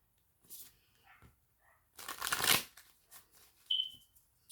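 Playing cards being shuffled in a few quick riffles, with a louder burst in the middle, followed by a brief high electronic beep.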